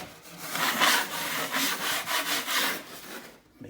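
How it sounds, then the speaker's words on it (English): A blue steel knife scraping high spots off a second coat of drywall compound on a mobile home wall patch, a series of rhythmic, raspy strokes, close and steady with brief pauses between passes. "Here's a good example of scraping your high spots."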